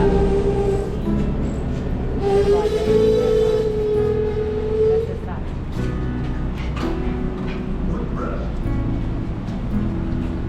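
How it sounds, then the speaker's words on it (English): Steady rumble and rattle inside a PATCO commuter train riding into Philadelphia, with a sustained tonal whine rising then fading under continuous rolling noise. "You sit on the train, enjoy your ride into Philly."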